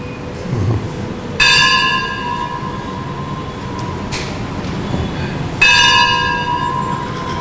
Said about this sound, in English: Can't compete with the bell.